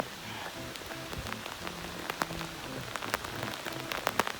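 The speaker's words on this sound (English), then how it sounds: "It's still raining." Steady rain pours down during a torrential storm with hail on the Monte Solaro chair lift, close patter of drops hitting surfaces with scattered sharper taps, continuous throughout with no talk.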